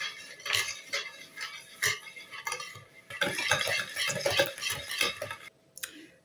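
Sugar being stirred into gluten-free, lactose-free madeleine cake batter: a close, steady run of scraping utensil strokes against the bowl with light clinks, fairly loud and continuous for about six seconds, with no talking.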